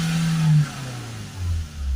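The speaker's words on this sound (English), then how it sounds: "if we accelerate it up, we'll see how far it spikes up to" A Ford Transit van's diesel engine, one with power loss and a full diesel particulate filter, revs up and down, a low droning note rising and falling in pitch several times within two seconds, close by.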